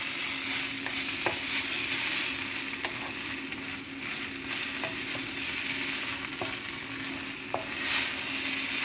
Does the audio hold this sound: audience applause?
no